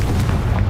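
A Confringo spell explosion in Hogwarts Legacy: a loud, sustained low boom with rumbling, bursting energy across the whole short moment, no voices heard.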